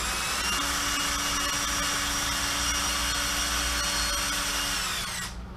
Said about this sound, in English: And got my power driver for that.